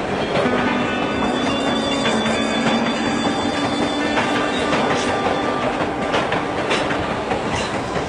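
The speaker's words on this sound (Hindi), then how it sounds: "इसके शहर को जाने वाली ट्रेन प्लेटफॉर्म नंबर 2 पर आएगी" A train arrives at a railway platform, its steady rumble and rhythmic clickety-clack of wheels filling the whole stretch, with a low tonal drone and scattered metallic squeals riding on top, loud and close.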